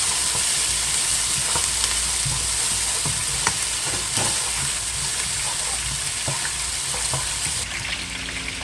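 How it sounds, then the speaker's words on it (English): Onion sautéing in a pan for a sambar fish curry with curry leaves, a dense continuous sizzle and fry punctuated by scattered stirring scrapes and clicks. "I've sauteed the onion for a few minutes"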